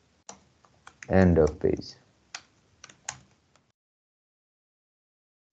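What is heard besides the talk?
typing text on a computer keyboard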